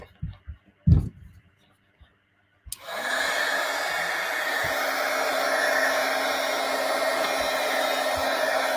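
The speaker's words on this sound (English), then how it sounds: "Heat gun." After a few quiet taps and clicks, a heat gun switches on and keeps blowing hot air in a loud, steady rush that lasts to the end.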